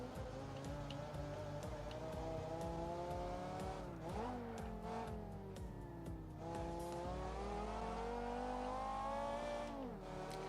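Car engine in the driving game Automation, on cross-ply tyres, revving steadily through a lap with gear shifts and pitch rises and dips, plus brief tyre squeal, loud and continuous with no talk.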